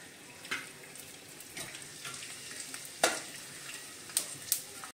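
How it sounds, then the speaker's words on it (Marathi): Edible gum (dink) frying in ghee, a steady sizzle with occasional sharp crackles and pops as pieces puff up, close and fairly quiet, no talk. "आता मी थोडा थोडा डिंक टाकून सर्व डिंक मी तळून घेते"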